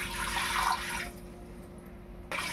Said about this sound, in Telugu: ఇది 4 నీళ్ళు వేసుకుంటానండి